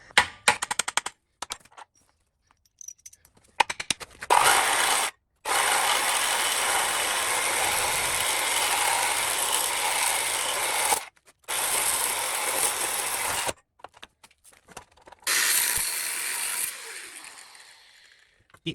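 A ratchet clicks rapidly in several long bursts, separated by pauses and a few short clicks, while the old rear differential mount is removed from the subframe of a Ford Escort build.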